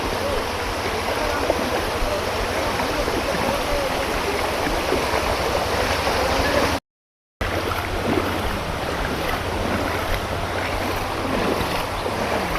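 Floodwater from a swollen river rushes strongly through a flooded village, making a loud, steady broadband roar of churning water that fills the whole clip and breaks off briefly in the middle.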